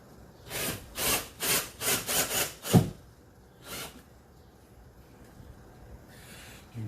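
A screw is driven by hand with a screwdriver into wood inside a micro camper, producing a series of rhythmic rasping, grinding turns up close, then a pause, a single further turn and near silence.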